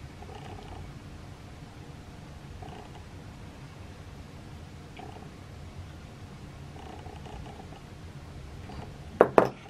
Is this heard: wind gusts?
no